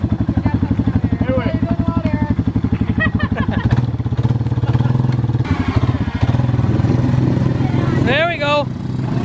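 An old Yamaha Wolverine ATV quad engine chugs loudly and steadily through mud, its rhythmic idle pulsing throughout, with voices talking over it and a brief higher whine near the end.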